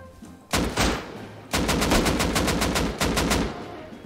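Video game gunfire during a 2v2 firefight: a loud, close blast opens, then after a brief pause a sustained, rapid-fire automatic burst of evenly spaced shots rattles for about two seconds before fading, with no talking over it.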